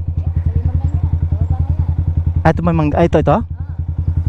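Motorcycle engine idling close by with a fast, even putter that continues throughout, while a person briefly talks over it.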